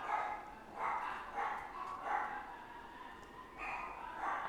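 Excited dogs bark in separate bursts roughly every half second to a second, somewhat distant and moderately loud, with a brief lull near three seconds before the barking resumes.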